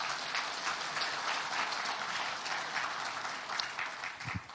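Audience clapping in a hall during a Korean lecture, a dense, steady wash of many hands sustained throughout, loud and close, with no voices over it.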